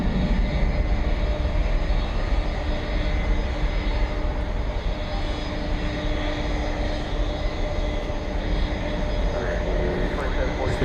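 A jet airliner at DFW Airport rumbles steadily at a distance during plane spotting, a continuous broadband engine roar with a faint tonal whine, sustained throughout without a clear rise or fade.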